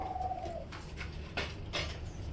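Pigeons at a market pigeon stall coo in short, soft, repeated calls, fairly quiet against a low background hum.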